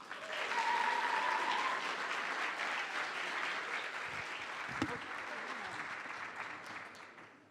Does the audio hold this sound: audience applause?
yes